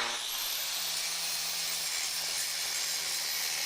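Steady, loud grinding hiss from a power grinder taking metal down flush in Deconstruction Simulator, a continuous bright abrasive whine with no breaks or talk.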